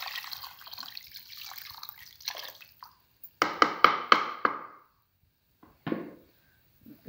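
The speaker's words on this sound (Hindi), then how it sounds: "सारा पानी डाल दो" Water poured into a cooking pot of chickpeas being prepared for iftar: splashing bursts, then a cluster of short gushing pours, close by and separated by quiet gaps.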